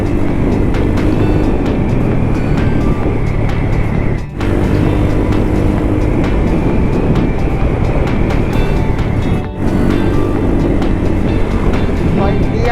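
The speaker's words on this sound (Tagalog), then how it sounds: "Ingay ng jeep, you know?" A loud, continuous jeepney diesel engine roar with rattling and road noise, steady for the whole stretch apart from two brief dips.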